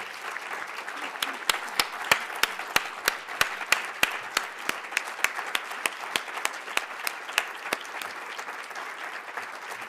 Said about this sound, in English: could we please applaud them onto the stage?